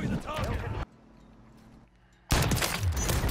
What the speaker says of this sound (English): People are getting shot up there.